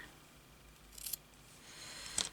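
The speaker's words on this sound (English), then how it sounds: "I have to cut it off a bit." Scissors snip a wool appliqué piece in two brief, crisp cuts about a second apart, close and quiet against a soft room hush, with no talk.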